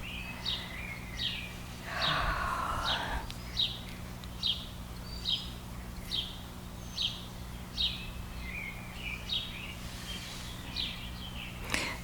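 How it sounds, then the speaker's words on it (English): A bird sings outdoors in Kansas on a calm day, repeating short bright chirps at regular intervals, moderately close over a quiet low hum, with a brief rustle early on. "I would imagine you can hear that bird."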